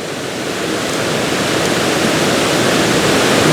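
Waterfall at Betws-y-Coed in Snowdonia, a loud, steady rush of water pouring through a wooded gorge, constant broadband roar that swells slightly over a few seconds with no voices.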